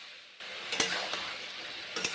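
Cauliflower and mushroom frying in a pan, a steady sizzle that jumps up as the food goes in, with a few sharp spatula scrapes and stirs; no voices.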